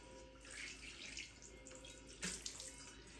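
Tap water running steadily into a sink as a cast iron pan is rinsed of salt and loosened food, a continuous close hiss with a brief louder splash partway through.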